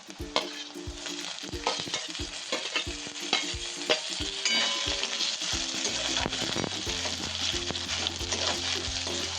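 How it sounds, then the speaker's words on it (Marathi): Tomatoes and onions fry in a pan with a constant close sizzle, while a spoon stirs them with a run of regular scraping clicks early on. "टोमॅटो कांदा चांगला तळू द्यायचा"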